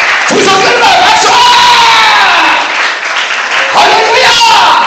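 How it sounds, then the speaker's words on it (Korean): A congregation at a healing revival meeting in Sisophon, Cambodia claps and shouts together in a loud, close burst of applause mixed with voices, swelling again after a short dip. "더 크게 박수!"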